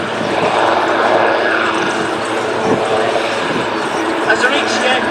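Wildcat helicopters with a new tail rotor system flying at the Biggin Hill Festival of Flight air show, a steady loud rotor and engine roar that fills the whole stretch, with a commentator talking over it on the PA.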